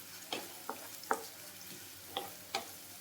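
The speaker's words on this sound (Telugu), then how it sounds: "ఉల్లిపాయలు, పచ్చిమిరపకాయలు అవి కూడా సన్నగా కట్ చేసుకోవాలండి. ఇలా బాగా ఫ్రై చేసుకోవాలి" Onions and green chillies frying in a pan for restaurant-style pasta, with a few spaced scrapes and taps of a spatula over a faint, steady sizzle.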